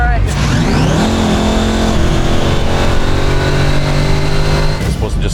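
A 1968 Dodge Charger with a highly modified engine rated near 1,400 horsepower revs hard, its loud roar climbing in pitch and holding high, then dropping off, with voices over it.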